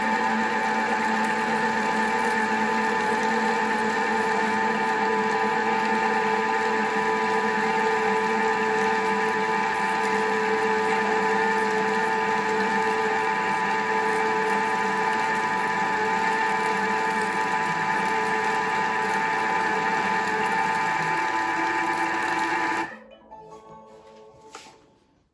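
A Thermomix TM6 kitchen machine fitted with the butterfly whisk runs at speed 4, giving a steady, loud motor whir and hum that holds constant for about 23 seconds, then cuts off abruptly, leaving faint room tone.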